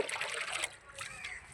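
Leftover rice porridge water poured over garden plants, a short splashing, trickling pour that fades after a moment, with a voice speaking over it.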